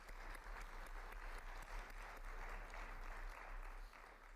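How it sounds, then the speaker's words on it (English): Steady applause from a conference audience fills the room, a dense continuous wash of clapping at low volume that holds evenly before easing slightly near the end. "Just give them a loud applause."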